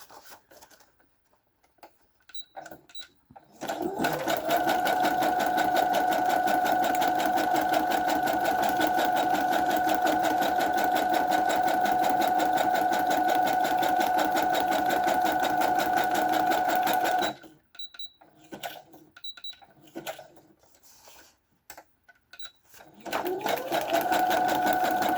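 Sewing machine stitching through a book page pocket, a long steady whirring run of rapid needle strokes lasting over ten seconds, with a short burst at the end and quieter handling and brief pauses between.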